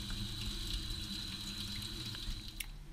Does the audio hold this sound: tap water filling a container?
yes